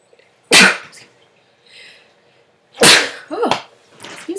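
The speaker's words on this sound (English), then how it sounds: "I have to sneeze." A single sharp close sneeze, then a quieter pause and a second forceful sneeze followed by a short breathy tail, no talk.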